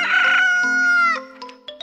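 A rooster crows loudly in a children's farm-animal guessing game, one long drawn-out cock-a-doodle-doo followed by a few shorter clucking notes, close and alone with no talk over it.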